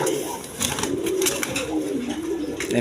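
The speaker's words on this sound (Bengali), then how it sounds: "এক পেয়ার কালারিং রাজগোল্লা কবুতর দেখেন দেখার মতো কবুতর" Colored Rajgolla pigeons coo in low, rolling, overlapping calls that run steadily through the moment, with faint higher chirps and rustling above them and no speech.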